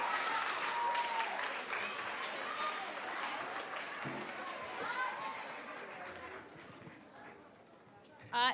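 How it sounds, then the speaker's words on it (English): Applause from a school concert audience for a departing 7th and 8th grade orchestra, steady broadband clapping with crowd chatter throughout, fading slightly before a brief loud burst at the end. "Please give one more round of applause to the 7th and 8th grade orchestra as they exit the stage"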